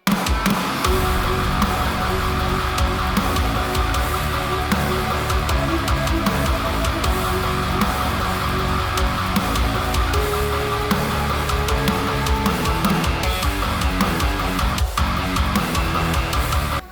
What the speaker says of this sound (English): a pad that goes underneath of it that's just kind of elevating the sound